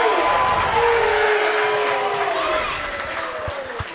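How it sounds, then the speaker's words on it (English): Crowd noise fills the gym during a varsity high school wrestling match between West Fargo Sheyenne and Valley City, with a continuous murmur of reacting spectators and a few scattered claps beneath talking commentators. "You can hear from the crowd."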